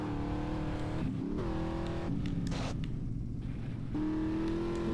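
A car drifts and revs in GTA San Andreas, its engine droning steadily with rising pitch sweeps and a brief tyre-scrub burst midway, loud and continuous throughout.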